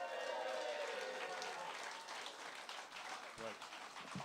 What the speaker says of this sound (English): I know you're going to give a big round of applause to another mad Dylanologist like myself, Mr. Andy Kershaw.